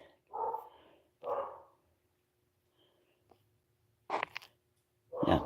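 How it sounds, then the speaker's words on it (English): Several dogs bark in short bursts, two mid-pitched barks early, then a sharper pair near the end, with quiet gaps between and a faint low hum underneath; no one speaks. "all my dogs are going nuts"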